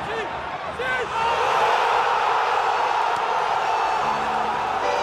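A whole neighbourhood of River Plate football fans erupts in celebration after a final against Boca, a dense, loud crowd roar with cheering and shouts that swells after the first second and holds steady throughout.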